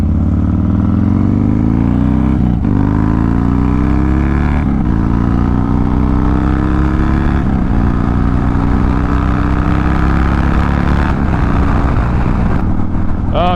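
A Harley-Davidson motorcycle engine heard while riding, a loud, close, low rumble that rises in pitch through several gear changes, with wind noise running underneath throughout.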